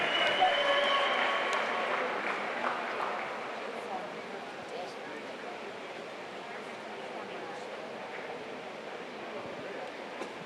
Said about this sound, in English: Round of applause for Cam Gray, our new New Zealand record hol